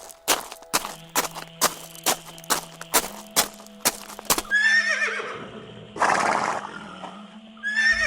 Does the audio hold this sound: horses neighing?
yes